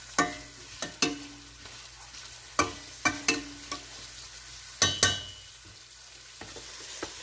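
Sofrito for a Bologna-style ragu cooking in a pan: a quiet sizzle broken by a series of sharp clinks and scrapes of a utensil stirring, close by with no voices.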